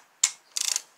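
Ratchet wrench tightening oil pump bolts on a 2007 Toyota Camry engine during a rebuild: a single sharp click, then a short quick burst of ratcheting clicks, close and clear.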